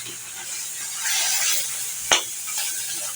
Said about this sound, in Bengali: এখন মশলাটাকে আমি ভালো করে কষিয়ে নেব